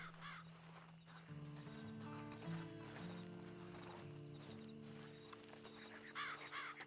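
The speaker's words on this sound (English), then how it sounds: "And you better get on this horse." A horse in the Western video game Red Dead Online snorts and steps with clip-clop hooves, close and fairly loud, over a steady low musical drone and ambient outdoor sounds.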